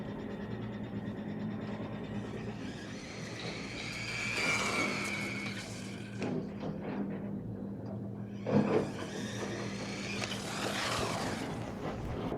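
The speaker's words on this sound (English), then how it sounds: "Considering this is absolutely soaking wet, the car is running flawlessly." An AM-X12 RC car runs on soaking wet ground in the rain, a continuous whining motor hum with rising and falling surges, wet hiss and a sharp knock, fairly close with no talk.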